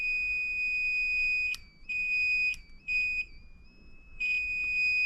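An Arduino Uno buzzer sounds a high electronic tone that shifts pitch with acceleration, sounding in short bursts with brief gaps and small steps in pitch, clear and alone.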